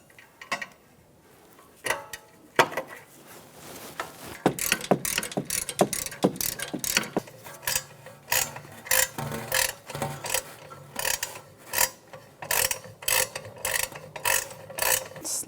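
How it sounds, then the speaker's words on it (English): A ratchet clicks repeatedly in quick bursts while loosening the rear brake caliper bolts on a 2009-2013 BMW 328i xDrive, sharp and close, with short pauses between runs of clicks. "Loosen up the caliper bolts."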